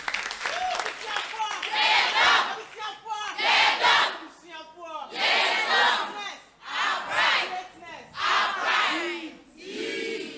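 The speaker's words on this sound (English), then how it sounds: "Please, a round of applause for her." An audience at a high school debate contest claps and cheers in loud, repeated surges, with shouting voices and whoops rising and falling between bursts.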